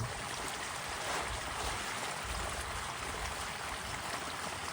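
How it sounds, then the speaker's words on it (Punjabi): Irrigation water rushes steadily into a sugarcane field, a continuous broadband gush with no break, fairly near and alone without voices. "ਪਾਣੀ ਛੱਡਿਆ ਵਾ"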